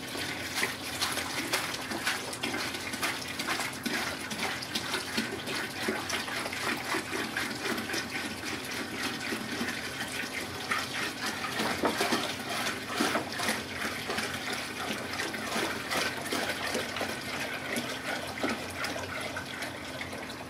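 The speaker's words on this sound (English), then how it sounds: "So I got 5 gallons of water here that should just fill this tank." Five gallons of salt water pours steadily into a fish tank, a continuous rushing, splashing stream up close that holds for the whole stretch without a break.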